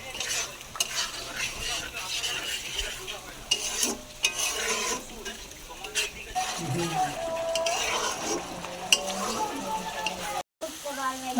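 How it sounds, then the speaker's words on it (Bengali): Masala spices fry in a pan for a home-style biryani, giving a continuous sizzle with repeated scraping and clinking spoon strokes against the pan, close and fairly steady throughout. "মশলাটা আমি ভালো করে কষিয়ে নেবো এবার।"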